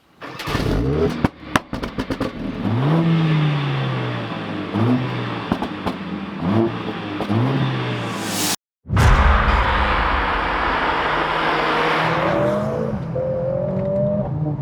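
A Mercedes A45S AMG accelerates hard through several gears, its engine rising and dropping with each shift in a steady rhythm, loud from inside, followed by a brief cut and then a sustained higher-pitched surge with road rush.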